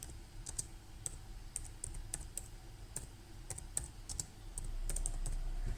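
Irregular bursts of light, close key taps on a computer keyboard while text is entered into a WordPress editor, with short pauses between clusters and a faint low background rumble.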